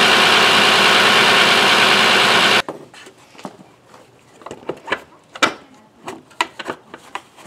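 Toyota Camry 3.5 V6 idling with a new alternator, engine hum steady and close for a couple of seconds, then cutting to quieter scattered clicks and knocks.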